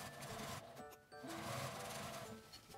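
A sewing machine stitches the side seams of an insulated lunch bag, its needle running in steady bursts with a short pause in the middle before it resumes.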